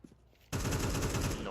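Sustained loud automatic AK rifle fire in a competitive tactical shooter match, a dense continuous burst that starts abruptly after a quiet moment and runs to the end.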